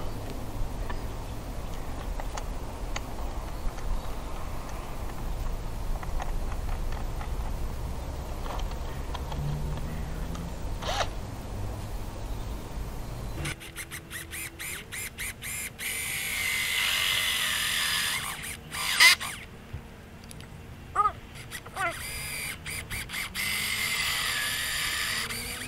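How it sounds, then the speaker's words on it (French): A power drill with a hole saw grinds steadily through material for a long stretch, its pitch shifting midway, with intermittent clunks and rattles. "Commencer par les perçages avec la scie cloche."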